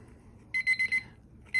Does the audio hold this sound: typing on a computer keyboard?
no